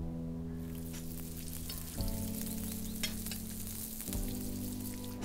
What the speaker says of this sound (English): So cook it at a moderate heat, make them nice and golden, and use plenty of butter in there.